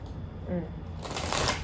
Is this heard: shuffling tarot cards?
yes